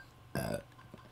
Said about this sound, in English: I just kind of like burped on your eye.